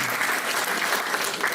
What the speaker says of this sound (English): The second thing I wanted to say is a big round of applause